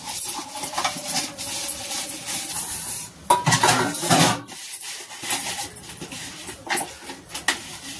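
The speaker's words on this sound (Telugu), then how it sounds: "ఇక గిన్నెలు ఉన్నాయండి, గిన్నెలు కూడా కడిగేస్తాను." Dishes and pots being washed by hand in a home kitchen, with intermittent clanks, scrapes and clatter of utensils close by at varying loudness.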